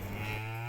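A cow lets out a single short, low moo in a village at Pongal time, fairly faint and heard alone without voices.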